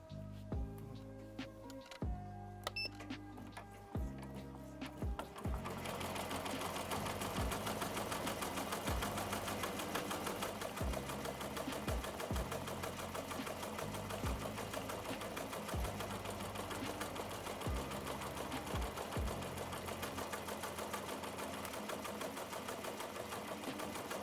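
An embroidery machine stitches 3D puff foam onto a cap, a rapid, even mechanical ticking and whirring that starts in short bursts and then runs continuously and steadily.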